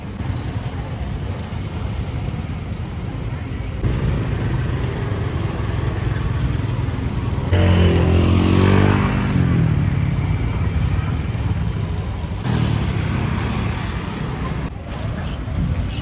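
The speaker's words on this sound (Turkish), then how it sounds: "Tabii ki bu bölgede de arabadan çok motosikletler var arkadaşlar." A motorcycle engine rises and passes close by around the middle, over steady street traffic rumble in Thailand and wind buffeting the microphone.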